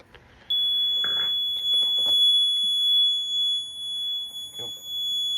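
A Fire-Lite MS-2410B fire alarm panel goes into alarm from a smoke detector test, emitting a loud, continuous high-pitched electronic tone that starts abruptly and holds steady while a person speaks over it.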